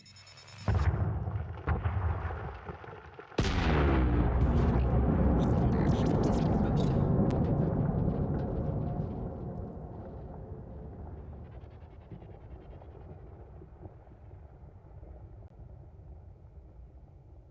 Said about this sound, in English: If we go to our contacts panel, we can detonate now. Detonation in 10 seconds.